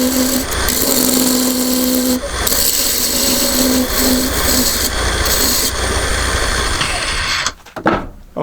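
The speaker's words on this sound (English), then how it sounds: "come in with my skew. I'm going to shrink down the diameter of this lid a little bit" A skew chisel cuts down the diameter of a wooden box lid spinning on a lathe, producing a loud, steady whirring scrape with a faint tonal hum that continues for several seconds before breaking off near the end.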